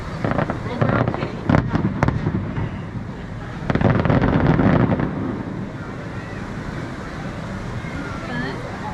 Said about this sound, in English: They fireworks are stay far away.